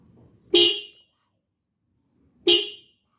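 Two short, loud blasts of a GESITS electric motorcycle horn, about two seconds apart, each a sharp honk with silence between.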